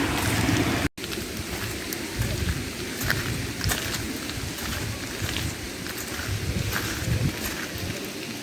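A lit-up waterfall on the Isle of Wight at dusk gives a steady broadband rush of falling water, loud and continuous, with only a brief dropout near the start.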